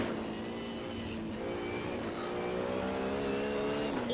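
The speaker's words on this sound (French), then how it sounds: "Oh là là, et moi je suis en drift total, c'est très mauvais pour mes pneus." A car drifts sideways in an online Assetto Corsa race, its engine droning steadily and climbing slowly in pitch, heard from a moderate distance with no one talking.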